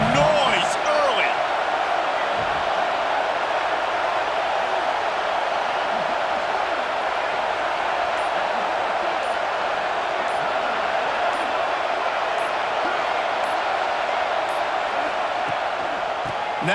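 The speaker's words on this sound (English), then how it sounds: "This crowd bringing the energy and noise early." A dense, steady roar of a large stadium crowd in the video game EA Sports College Football 26 fills the space continuously, with scattered sharp thuds and occasional voices rising over it.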